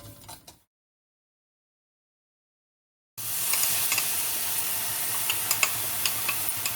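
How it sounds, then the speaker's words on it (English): Poppy seeds roasting in melted ghee in a pan, a steady close sizzle with small ticking pops, starting abruptly after a few seconds of silence that follow a brief earlier burst. "I will add about half a tablespoon of poppy seeds or khaskhas and roast this well"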